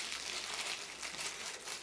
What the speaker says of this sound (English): let's take the watch out of its plastic bag